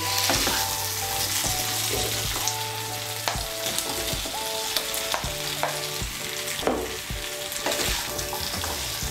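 Pumpkin with spices, fried potato and pointed gourd sizzles steadily in a pan while a spatula scrapes and taps in a repeated rhythm, close and fairly loud.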